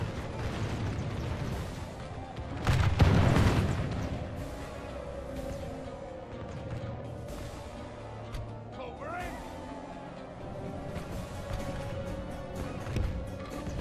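Cannon fire booms in a Total War Eras mod battle, one heavy blast standing out loudly amid a rumbling battlefield din, with faint distant reports later.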